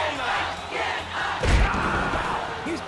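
A wrestling arena crowd in the WWE All Stars video game roars and cheers in a loud, sustained swell, with a sharp impact thud partway through and a commentator's voice mixed in.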